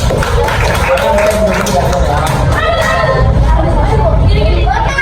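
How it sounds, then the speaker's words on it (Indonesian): Schoolchildren in an elementary classroom clap briefly amid lively chatter, with an adult voice and children's voices talking over the noisy room. "tepuk tangan lagi dong"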